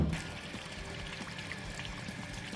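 Water pours from a pipe at a municipal supply point, a steady splashing gush that stays fairly constant and close, with no voices over it.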